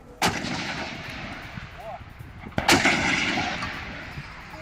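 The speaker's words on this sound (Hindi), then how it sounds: "छोटी तोपों का इस्तेमाल भी युद्ध क्षेत्र में हो रहा है।" Two sharp blasts of small artillery cannons in the Russia-Ukraine war, one near the start and a louder one midway, each followed by a rumbling echo over faint background noise.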